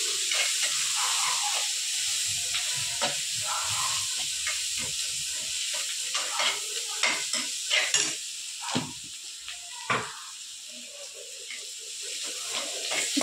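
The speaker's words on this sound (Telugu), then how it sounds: "ఇప్పుడైతే ఆనియన్స్ కొంచెం ఫ్రై అయినాయి" Sliced onions with a spoonful of turmeric frying in a pan: a continuous close sizzle and hiss, with a run of scraping spatula stirs and clinks in the second half.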